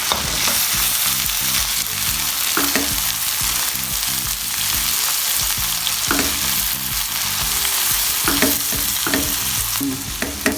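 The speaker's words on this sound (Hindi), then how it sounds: "अदरक लहसुन का पेस्ट मैंने 1 मिनट के लिए फ्राई कर लिया। अब हम टमाटर डाल देंगे।" Tomatoes added to ginger-garlic paste fry in a pan for chicken tikka biryani, giving a steady dense sizzle with scattered clicks and scrapes of stirring throughout.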